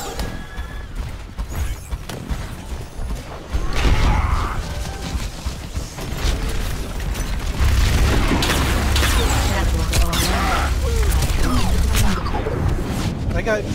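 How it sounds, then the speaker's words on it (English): Widowmaker's sniper shot in Overwatch on Temple of Anubis lands as a sharp, heavy boom that rumbles on, followed by a second loud hit, while several people talk over the game sounds. "I got sniped by Widowmaker."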